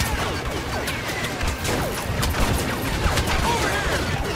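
Gunfire in the Star Wars Battlefront video game, dense rapid blaster and gun bursts with crashes filling a short busy battle stretch at steady loud level, with players talking over it.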